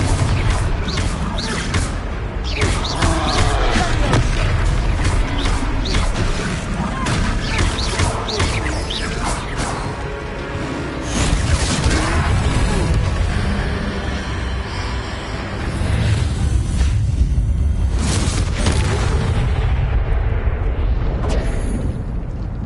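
Fiery Confringo spell blasts explode in a Hogwarts Legacy battle against a troll, with dense, repeated booms and crashes over a constant roar and occasional voices from the game.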